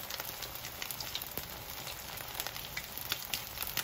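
Salmon fillets for Jamaican escovitch frying in oil on medium-high heat, a continuous close crackling sizzle with fine spitting pops and no talking.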